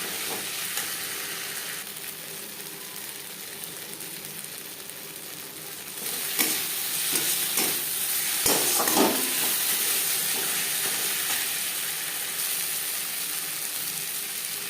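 Spices and onion sizzle steadily in a pan for a Bengali fish malai curry, a continuous close frying hiss with occasional scraping stirs that grow louder midway, no talking.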